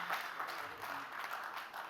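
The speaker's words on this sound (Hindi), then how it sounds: "मैं चाहूँगा आप एक बार तालियों से उनका इस्तकबाल करें" Steady applause from a crowd at a Hindi youth poetry competition, faint and distant, a continuous wash of clapping with no break.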